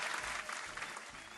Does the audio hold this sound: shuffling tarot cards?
no